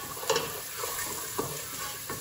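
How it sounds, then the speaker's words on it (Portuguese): Garlic toasting in a pan for white rice, a steady broadband sizzle with a few soft stirring scrapes and clinks, close and fairly quiet, no voices. "Aí vou deixar o meu alho torrar"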